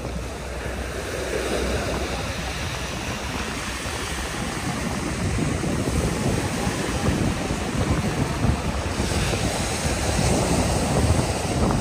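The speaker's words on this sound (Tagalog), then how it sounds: "Lakas ng alon, grabe." Strong ocean waves crash and surge continuously along a Metro Manila shore strewn with trash, a loud, close, rushing roar buffeted by wind against the microphone.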